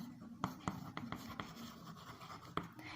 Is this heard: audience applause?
no